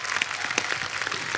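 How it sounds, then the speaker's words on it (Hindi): Dense audience applause on a Hindi comedy talk show set, many hands clapping steadily at close range for a short burst with no voices over it. "जोरदार तालियां।"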